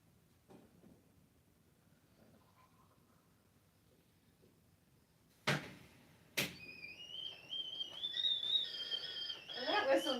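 A whistling kettle comes to the boil after a couple of sharp knocks, its shrill, wavering whistle rising and growing steadily louder over several seconds in a quiet room.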